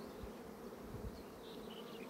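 Honeybees buzz at a beehive, a faint, steady insect drone with a few soft low bumps and no voices.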